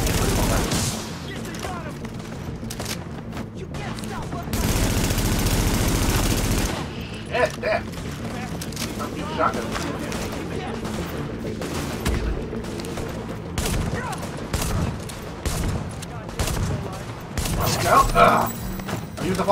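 Repeated shotgun fire in The Division video game, heavy bursts and bangs scattered across a busy combat scene with mechanical clatter, under frequent talking throughout.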